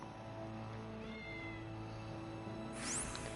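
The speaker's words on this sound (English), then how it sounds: "How many fucking cats are in here? I hear like 20 of them fucking talking." Several cats meow in a Tales of Arise game scene, thin repeated mews drifting over a faint steady background hum, fairly quiet and distant.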